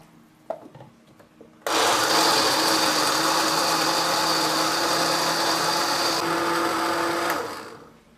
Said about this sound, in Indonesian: Soalnya kita manual nih di blender kayak gini.